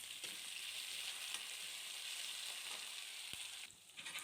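Onions with curry leaves and salt sauté in a pan, giving a close, steady, even sizzle throughout with no voices.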